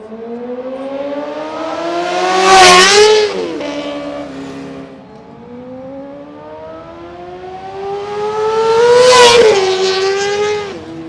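A used superbike makes two loud fly-bys, its engine note rising in pitch as it screams past close by and dropping sharply away, with a quieter gap between the passes.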